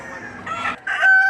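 A Boston Sweater gamecock rooster crows at a livestock auction market in Batangas, a short, loud, close cock-a-doodle-doo in two quick bursts, alone without talk.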